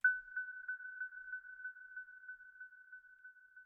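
A synthesized ping built in SuperCollider rings as a steady tone that carries a dry attack followed by repeated delayed reverb echoes, pulsing evenly and fairly quietly for several seconds.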